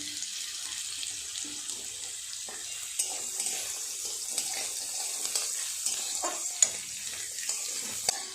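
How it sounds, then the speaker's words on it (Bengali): Potatoes and carrots frying in a pan make a soft, steady sizzle, with faint scraping and small clicks of stirring scattered throughout and no talking. "আলু গাজর আর একটু ভালো করে ভেজে নেব।"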